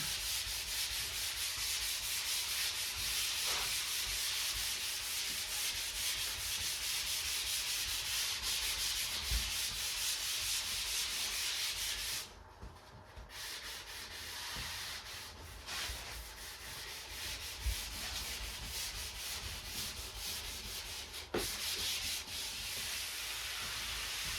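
Continuous scratchy rubbing of sandpaper on a wood finish coat of oil, steady strokes with a brief pause midway, close and fairly quiet with no talking.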